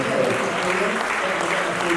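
A church congregation applauding and acclaiming the Lord, dense continuous clapping filling the room at a steady loud level with voices mixed into the ovation.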